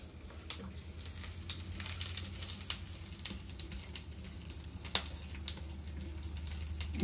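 Oil sizzling and crackling in a pan as it is flavored before rebollones mushrooms go in, a steady close frying hiss with scattered sharp pops and faint clinks, no voices.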